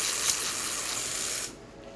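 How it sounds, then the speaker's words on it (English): A Profitec P500 espresso machine's steam wand blasts a loud, steady broadband hiss up close, cutting off abruptly near the end and leaving a faint low hum. "Now we're going to test the steam wand by turning it on here."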